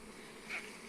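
A steady, faint buzzing drone of honeybees at a hive, with a brief slightly louder swell midway.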